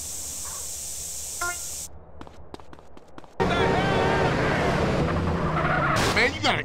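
A car engine idles and revs in GTA San Andreas, a steady motor drone with tyre and street noise that swells louder partway through.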